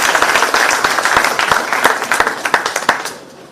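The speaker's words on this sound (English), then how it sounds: "Please give him a round of applause." Audience applause at a quiz segment of an indoor event, a burst of many hands clapping with sharp distinct claps standing out, loud and close, tapering off toward the end.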